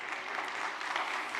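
Scattered applause rises from a church congregation during a Spanish-language sermon. The clapping is soft and distant, a brief even patter with no voices over it.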